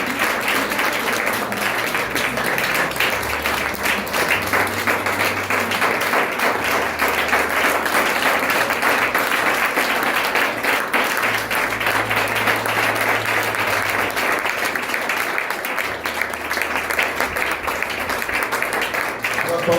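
A church congregation at an evangelistic crusade applauds and acclaims Jesus, a sustained, dense roar of clapping that carries on steadily for the whole stretch, with voices calling out beneath it.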